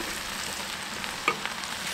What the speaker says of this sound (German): einfach ein bisschen brutzeln lassen